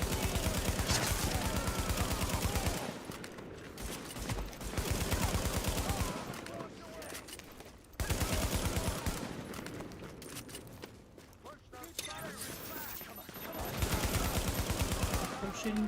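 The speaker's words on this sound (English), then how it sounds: "They're shooting through a wall." Gunfire from Tom Clancy's The Division, sustained bursts of automatic rifle fire rattling in long volleys with brief lulls between them, dense and loud throughout, with voices in the game faintly beneath the shooting.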